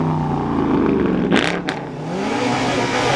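A widebody carbon-fiber Nissan GTR engine rumbles up close, rising and falling in pitch as it revs, with a brief mechanical clunk partway through as it shifts into drive from neutral.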